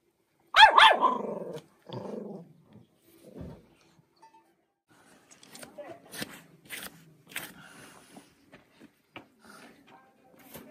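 A dog in the Sierra de San Francisco countryside barks sharply a few times, then quieter growls and scuffling follow, with people talking nearby.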